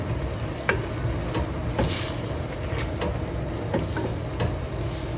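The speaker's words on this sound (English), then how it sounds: "when you stir it, do it gently" Dried cod and eggplant curry being stirred gently in a pan, soft repeated scraping strokes over a continuous low sizzle and background hiss.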